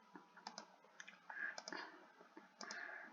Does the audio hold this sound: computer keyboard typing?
yes